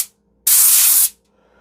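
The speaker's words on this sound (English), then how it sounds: "I'm going to spray a little spray in here." Canola oil cooking spray is released into an air fryer in one short, loud, close hiss lasting about half a second, with near silence before and after.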